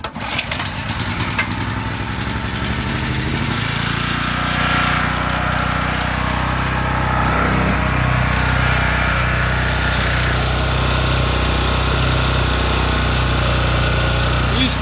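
An engine being started for a sale demonstration, cranking briefly before catching and settling into a steady, loud idle that runs continuously close to the microphone.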